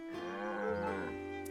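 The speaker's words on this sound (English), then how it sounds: "Can't ride the cow." A cow moos in the video game Echoes of Wisdom, a single drawn-out, tonal low call that sustains evenly, moderately loud, with no talking over it.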